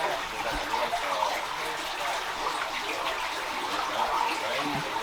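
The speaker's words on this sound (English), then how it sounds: "The water running in the bank right here. It's running down right here." Rainwater runs down a river bank near an old iron furnace site, a steady close rushing and splashing like a small waterfall, continuous and even throughout.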